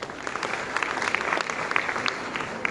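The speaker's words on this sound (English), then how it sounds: "Honestly, parents deserve a big round of applause." Parents applauding at an English-medium school gathering: a steady, dense wash of many hands clapping throughout, moderately loud and fairly close, with no talk over it.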